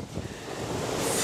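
Strong winds of Cyclone Fani gust in Bhubaneswar, a steady roaring rush that swells louder toward the end, with no voices.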